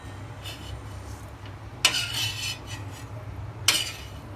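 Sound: scraping cooled masala into a mixer jar

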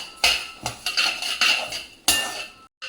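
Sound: stirring and roasting rice in a pan for payasam

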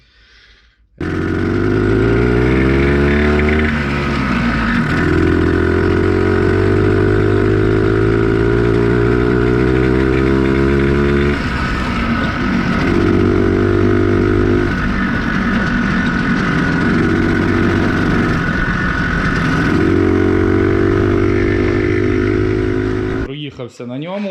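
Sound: Planeta Sport motorcycle engine running while riding

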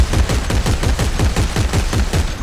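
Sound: gunfire in Dead Space 3 video game

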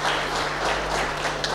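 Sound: audience applause for the speaker

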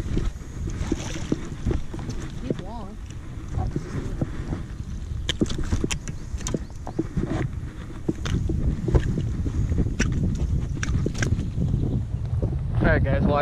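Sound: wind noise on microphone while fishing on a boat

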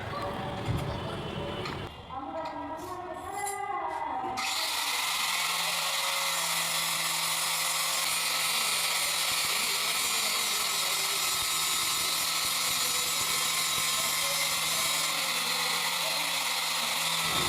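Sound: power tool with dish blade grinding marble molding

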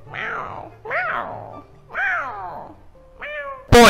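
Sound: cat meowing

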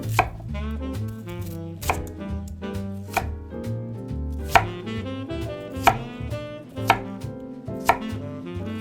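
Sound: knife dicing a potato on a cutting board

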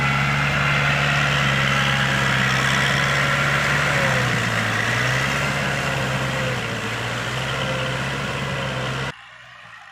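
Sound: large tractor engine plowing hard soil

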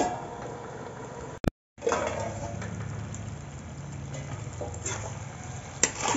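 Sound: chicken being fried and stirred in masala in a pot

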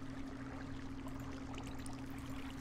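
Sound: flowing water in Survival Islands video game

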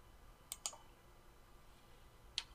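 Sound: computer mouse click in Autodesk Revit

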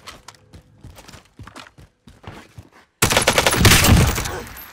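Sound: gunfire in Call of Duty Warzone video game

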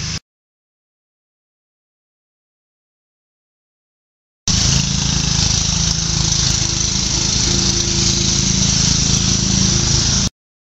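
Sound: lawn mower running nearby

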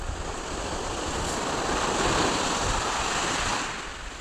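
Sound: strong sea waves

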